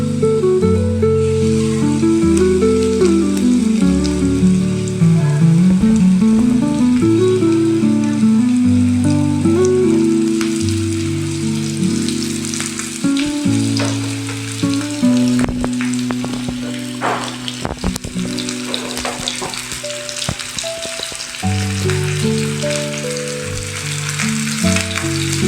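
Bangda mackerel fish fry loudly in a pan with crushed garlic, a dense, continuous sizzle and crackle with scattered pops, under a layer of background music.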